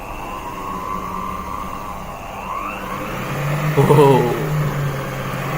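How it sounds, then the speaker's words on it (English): A homemade DC motor invention spins at high RPM, giving a steady whining hum with rising and falling tonal sweeps that swell briefly near the end, loud and close, with a short spoken exclamation. "With the sound of it, you can see that the RPM is really high."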